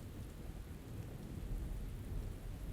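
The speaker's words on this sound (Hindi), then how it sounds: "उस रात बारिश हो रही थी" Rain falls at night during a thunderstorm, with a heavy low rumble of thunder rolling beneath steady rainfall, loud and continuous throughout with no voices.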